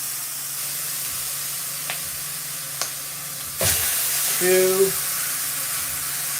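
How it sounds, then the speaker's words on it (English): Chicken rib eyes searing in a size 10 skillet, a steady close hiss of hot fat that flares louder partway through, while a man counts aloud over it. "let's have some fun and sear up some ribeyes"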